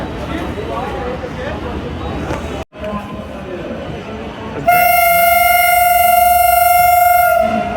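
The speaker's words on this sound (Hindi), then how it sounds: "देवगढ़ वाली वंदे भारत गया में एंटर करते हुए" A Vande Bharat train from Deoghar pulls into Gaya station and blasts a loud, sustained horn that lasts several seconds. Before the horn there is a rumbling platform ambience with someone talking.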